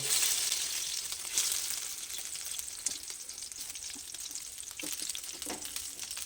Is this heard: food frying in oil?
yes